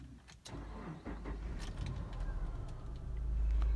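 A 2007 Subaru Outback 2.5 engine cranks and catches, then settles into a steady, rising idle rumble close by, with a few small clicks early on.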